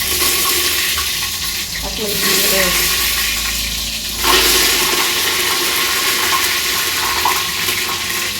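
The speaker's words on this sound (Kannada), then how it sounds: "ಕರ್ಬೇವು ತೊಳೆದಿರೋದ್ರಿಂದ ನೀರಿಟ್ಟು ಸಿಡಿತಾಯಿ" Loud, continuous sputtering and crackling of wet curry leaves hitting hot oil, with a brief surge midway, close up and without talk.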